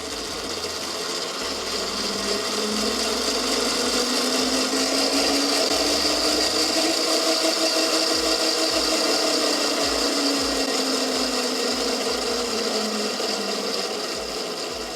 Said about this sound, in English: the rear wheel seems to be moving forward and reverse